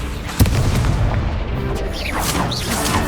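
An Incendio fire spell from Hogwarts Legacy bursts with a sharp, booming thump early on, followed by whooshing, crackling spell effects amid ongoing combat noise.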